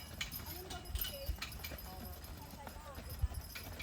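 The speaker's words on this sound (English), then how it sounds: "horses are coming." Horses' hooves clip-clop along with a horse-drawn carriage on a roughly 12-mile loop in Acadia, a steady rhythm of hoof strikes drawing nearer beneath ongoing chatter and outdoor noise.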